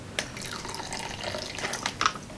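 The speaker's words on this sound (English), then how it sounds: "Pouring some more tea." Japanese green tea is poured into a cup, a steady close liquid trickle with a few splashy accents near the end, with no voices over it.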